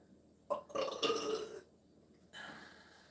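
A couple of loud, drawn-out burps close by, separated by a brief pause, with no talking.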